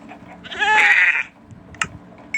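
A single loud goat bleat from a video game, about half a second long and close up, followed by quiet and a brief click.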